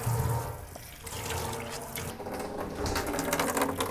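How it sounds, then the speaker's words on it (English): Water runs from a sink in a community ceramic studio and spills into a large clay trap bin. The flow is steady and close, splashing continuously with no voices. "this water is now spilling into the bin, which is exactly what we wanted"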